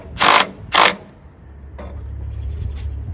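A ratchet snugs down 10 mm bolts on a 12V riding lawn mower battery, giving two sharp close bursts of clicking, followed by a fainter stroke and low background hum.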